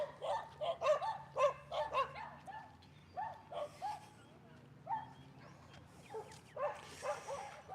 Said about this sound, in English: Little dogs barking.